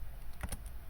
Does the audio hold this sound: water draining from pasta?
no